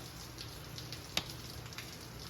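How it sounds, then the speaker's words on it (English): Light rain falls outside a leatherworking shop as a faint, steady hiss, with a single sharper drop or tap near the middle. "Hopefully the sound of the rain's not too distracting."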